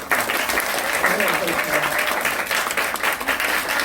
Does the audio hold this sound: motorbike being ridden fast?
no